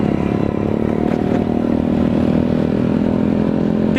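A motorcycle engine rumbles loud and close at a fairly steady pitch, with no voices, near an empty house.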